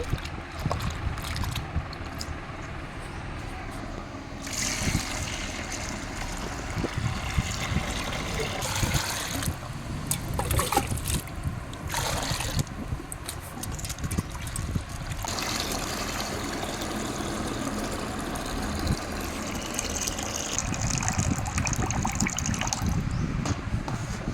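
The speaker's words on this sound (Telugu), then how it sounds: "మెనపప్పుని ఇలా రెండు మూడు సార్లు బాగా కడుక్కోండి" Urad dal is washed by hand two or three times in water, with close sloshing and swishing splashes that come in uneven waves and pauses throughout, and no talking.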